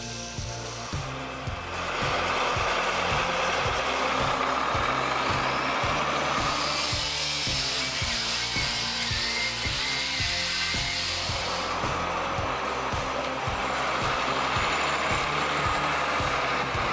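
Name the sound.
Belarus MTZ tractor driving through muddy forest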